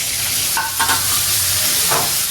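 Onions frying in hot oil for a mutton curry, a steady broadband sizzle with a few brief stirring scrapes, close and fairly loud with no talk.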